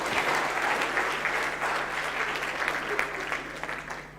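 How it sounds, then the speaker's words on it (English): Steady applause from a summit audience, many hands clapping together in a dense continuous wash that holds for several seconds and fades slightly toward the end, with no talking over it. "Give yourself a clap."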